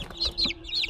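Several short, close clucks from Brahma chickens in a coop come in a quick series of about three calls, clear and moderately loud against a quiet background.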